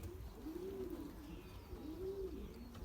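Belgian racing pigeons coo softly in a quarantine loft, two rising-and-falling coo phrases separated by a short pause, quiet and close over low background rumble.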